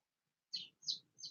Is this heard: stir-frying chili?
no